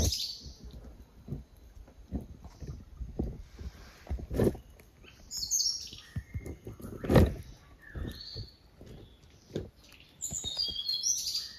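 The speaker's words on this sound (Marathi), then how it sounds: "संध्याकाळच्या टायमात बघा मस्त पक्ष्यांचा आहे ना आवाज येतो इकडं" Evening birdsong outdoors, scattered high chirps and tweets from several birds at varying distances, mixed with rustling and low bumps, no speech.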